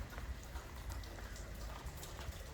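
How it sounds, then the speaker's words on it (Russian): Steady soft autumn rain patters on a surface in Apulia, Italy, a continuous hiss with scattered drops and no voices. "дождик."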